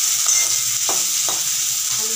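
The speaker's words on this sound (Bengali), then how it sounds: "পেঁয়াজ আর আলুটা দুটো একসাথেই ভেজে নেবে" Onions and Chandramukhi potatoes fry together in well-heated oil for homemade chow mein, giving a steady close sizzle with a couple of brief stirring scrapes and no talking.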